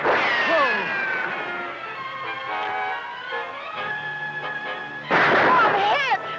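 Sharp gunshots crack out during a Western shootout, a few scattered reports over dramatic music, ending in a burst of shrill, wavering sound.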